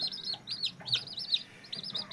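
Quiet, high chirping calls from chickens on a poultry farm come in short bursts, a few overlapping, against faint background noise.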